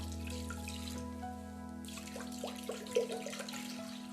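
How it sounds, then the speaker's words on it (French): Water for cooking quinoa runs from a tap into a pot, a soft steady stream over a low hum, ending in a few gurgling splashes. "on va mettre 400 g d'eau. Donc ici, c'est pour cuire le quinoa."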